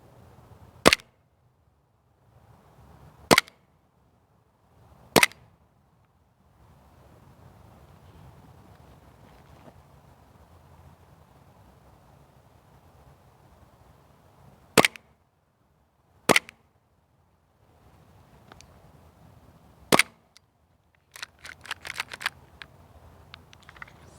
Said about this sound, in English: We'll give you some little up close dry fire.